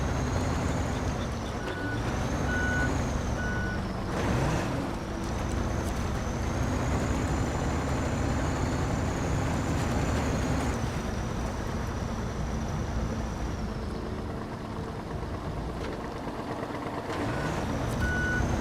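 A heavy truck backs up in a video game, its reversing alarm beeping in short, evenly spaced pulses over a constant low engine rumble and road noise.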